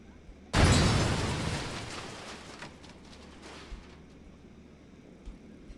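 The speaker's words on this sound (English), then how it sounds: "I wanna watch this thing blow up again" A loud sudden blast goes off in a kitchen in the Cooking Simulator video game, then a long roaring rumble slowly dies away, followed by a few faint scattered pops.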